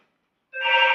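A telephone begins ringing midway after a moment of silence, with a bright, buzzing electronic ring that holds steady and close to the end, with no talk.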